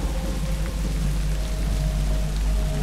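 Steady, heavy rain pours down in a continuous dense hiss, loud and close, with no voices.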